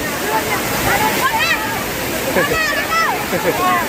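A waterfall roars with a loud, steady rush of flowing water that fills the whole scene, and voices can be heard faintly over it.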